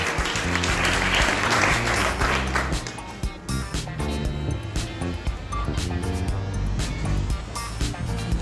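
A crowd claps loudly at the 2024 mairalesas presentation in Huesca's Barrio de La Encarnación, a dense sustained wave that eases slightly after a few seconds while continuing steadily, with background music or tones mixed underneath.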